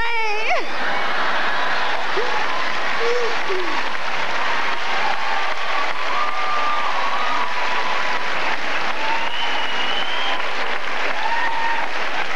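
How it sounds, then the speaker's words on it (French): Crowd applause at a 1998 stand-up comedy show, loud and sustained throughout with a sweeping tonal sound at the start and faint voices or whistles scattered over the clapping. "il applaudit, lui"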